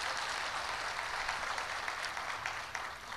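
Audience applause welcoming poet Tushar Shukla to the stage at the Nobat Meghdhanu festival in Jamnagar, a steady dense clatter of many hands sustained through the whole stretch at moderate distance.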